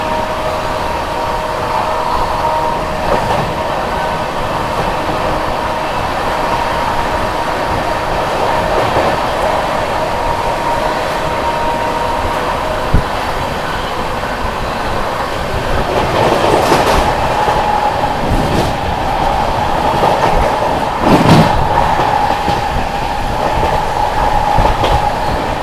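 Steady rolling rumble and clatter from inside the 12313 Sealdah–New Delhi Rajdhani Express at speed, continuous and loud, with brief louder rattles and a passing whoosh partway through.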